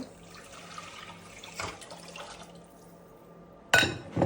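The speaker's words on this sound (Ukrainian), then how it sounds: "Тепер наливаємо сюди води." Water splashes and trickles into a soup pot holding fried onion and carrot, at a soft, steady level, ending with a louder burst of splashing.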